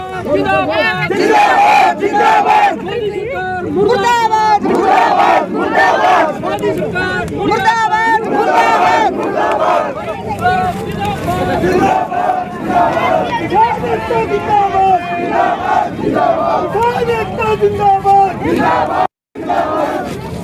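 A crowd of farmers protesting a broken promise shouts slogans in loud, continuous unison chants while burning an effigy of Prime Minister Modi, voices overlapping with steady babble throughout, briefly cutting out near the end.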